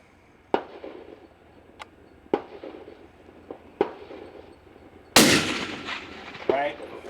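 Several sharp rifle reports from a Spanish FR8 chambered in .308 ring out at an outdoor range, spaced a second or so apart, each with a decaying echo tail; the final shot is loudest and longest-ringing.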